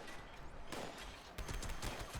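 Gauss minigun fire in the video game Fallout, dense rapid bursts of shots with a brief gap in the middle, loud and continuous throughout.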